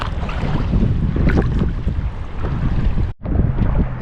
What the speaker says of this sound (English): definitely some waves coming in